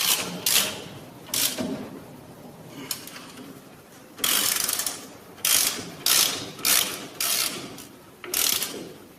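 A ratchet tightens a castellated nut during a Saxon restoration, in loud, close bursts of rapid clicking separated by short pauses.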